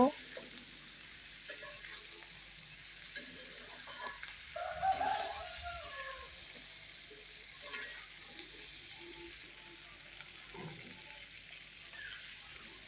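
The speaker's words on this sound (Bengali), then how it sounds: "এখন আলু আর ফুলকপিটা দিয়ে দিলাম মশলার ভেতর এবার মশলার সাথে আলু ফুলকপি ভালোভাবে মিশিয়ে নেব" Potatoes and cauliflower get stirred into sizzling masala in a frying pan, a steady low crackle with scraping stirs throughout, faint and close, with a bird cooing somewhere in the background.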